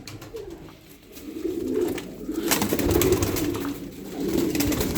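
Pigeons, racing or flying birds in a loft, give soft, low, rolling coos that repeat in several swells over a steady background rumble.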